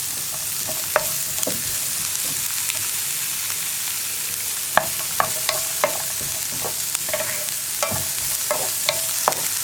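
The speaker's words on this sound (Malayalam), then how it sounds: "ഇതൊക്കെ ഹൈ ഫ്ലെയിമിൽ വെച്ചിട്ട് തന്നെ കുക്ക് ചെയ്യുക." Cut cucumber and mixed vegetables sautéing in a pan over high flame for raita, a steady broadband sizzle with frequent sharp clinks and scrapes of a spoon stirring against the pan, close and alone without talk.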